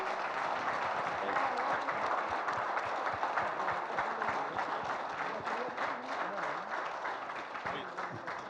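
An audience breaks into sustained applause at a film pre-release event for Amaravathiki Aahwanam, standing to honor a Padma Shri award. The dense, steady clapping fills the whole stretch, with voices mixed in.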